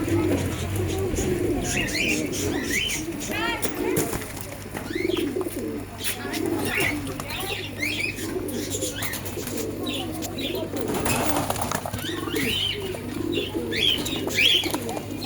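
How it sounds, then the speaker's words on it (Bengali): Several pigeons, including green-coloured birds, coo continuously from close by, layered burbling calls overlapping throughout against a constant low hum and scattered chirps. "এই সবুজগুলোকে দেখুন, দুর্দান্ত কালারের পায়রা"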